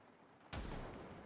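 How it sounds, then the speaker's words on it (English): A single heavy gunshot in Project Zomboid cracks out suddenly from near silence and leaves a long rumbling tail, fairly loud and alone. "Oh god, that was a good gunshot."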